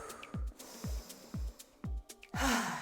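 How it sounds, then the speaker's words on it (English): Heavy, rhythmic breathing up close during a vinyasa yoga flow: quick sharp inhales and exhales repeating about every half second, ending in a long blown-out breath. "I know y'all hear me breathing"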